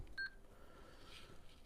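Timer beep during a gentle mobility workout for seniors, one short, faint electronic tone near the start, followed by quiet room noise.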